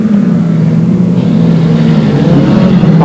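Several race cars battle closely on track, a loud, sustained engine drone with pitch rising slightly as the cars pass near, steady and dense with no voices.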